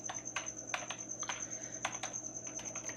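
Continuous computer keyboard typing while an email address is entered for a new client in a time-tracking app, with quick, irregular clicks held close and steady over a faint hum.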